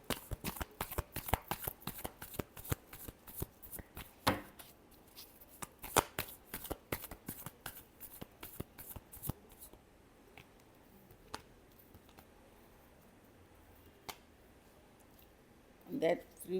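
Tarot cards being shuffled, a rapid run of crisp riffling slaps and flicks up close that thins into sparse single taps, with quiet handling between.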